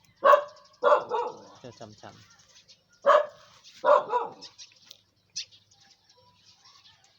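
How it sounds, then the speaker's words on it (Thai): A dog barks in a few sharp bursts at a rural country home, mid-distance, with someone talking over and between the barks. "น้องหมาก็เห่าแล้วครับ"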